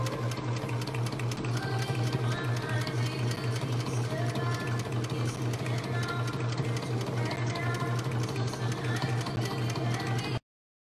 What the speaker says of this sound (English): So I'm going to sew this aluminum heat sheathing around the wire so that the wire doesn't get fried.